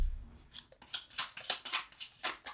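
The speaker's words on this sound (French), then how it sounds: "Je vais tirer une carte avec celle-ci" A tarot card slides out of a deck and is shuffled during a card reading. The crisp swishing and rustling repeats in quick, close bursts of several strokes, with no talking.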